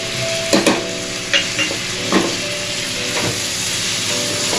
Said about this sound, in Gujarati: હવે આપણે એમાં લીલું લસણ ઉમેરીએ અને એને સાંતળી લઈએ